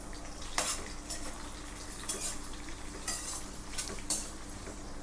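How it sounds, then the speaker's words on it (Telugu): Chopped red onion and curry leaves fry in a pan with a soft background sizzle, while a utensil clinks and scrapes against the pan several times at close range; no talking. "ఈ ఎర్రగడ్డ అయితే మనకి పచ్చి వాసన పోయేదాకా వేయించుకోవాలండి"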